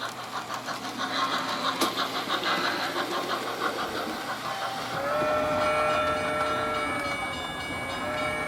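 A Bachmann Spectrum Pennsylvania Railroad 2-6-0 model steam locomotive runs at half speed with a steady rhythmic chuffing and mechanical rumble, and a sustained whistle-like tone joins partway through, alone with no talk.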